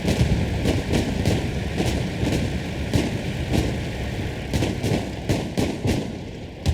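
Cannon and artillery fire in the Hell Let Loose battlefield game, a steady run of repeated booming blasts with sharp cracks every half second or so over continuous rumbling combat noise, loud and close.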